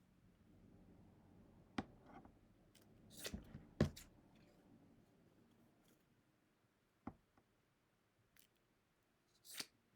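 Scissors snip through fabric from a quilting charm pack a few times, with crisp separate cuts and pauses between them, close by in an otherwise quiet room.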